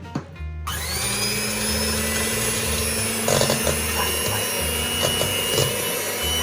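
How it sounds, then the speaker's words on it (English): An electric hand whisk mixes cheesecake filling with Philadelphia cream cheese, starting with a brief click and then whirring loudly and continuously, with occasional rattles of the beaters against the bowl. "We've upgraded whisks to an electric whisk, which I haven't used yet."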